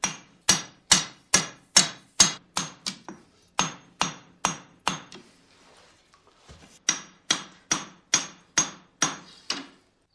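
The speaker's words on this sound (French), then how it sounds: "Jour après jour, Gassan martèle la barre d'acier" Steel bar struck by a hammer as a blade is forged, a steady run of loud, close, ringing blows in quick rhythm, pausing briefly midway before the regular strikes resume.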